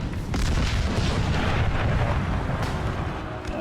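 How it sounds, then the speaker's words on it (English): Artillery fire rumbling in an American Civil War battle game with a hardcore mod, a dense, loud, sustained low roar of cannon blasts and impacts with no pauses. "Oh, nice hit with the artillery."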